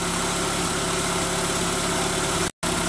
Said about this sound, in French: on laisse tourner au ralenti aussi